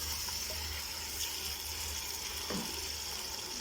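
Water splashes into a hot cooking pan of frying turmeric, coriander, red chili, salt and black pepper for a ridge gourd dish, producing a steady, moderately faint hiss with a brief splash midway and no voices.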